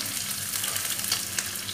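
Onion, green chilli and curry leaves sizzle with eggs in a hot pan, a close, steady crackling fry with a few brief pops and stirring sounds, and no talk.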